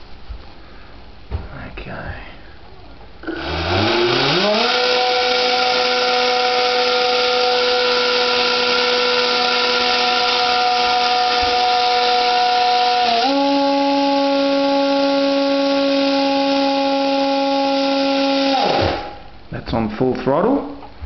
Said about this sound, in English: we'll crank this motor up and see what she does.